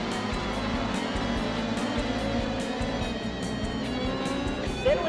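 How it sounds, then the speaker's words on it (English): Speedcars in a 50-lap race, engines roaring and straining together in a dense, continuous drone from the pack, loud and close under the general noise of the event. "You can really hear the motors struggling as they took off third."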